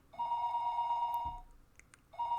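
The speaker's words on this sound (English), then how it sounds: "Start by picking up the phone." Telephone ringing in two bursts of a steady electronic tone, the first lasting over a second and the second starting near the end, fairly faint with a brief knock between the rings.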